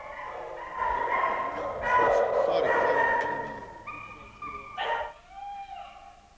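A rescued shelter dog yips and barks in short bursts up close, ending with a whimpering whine, while people talk in the background.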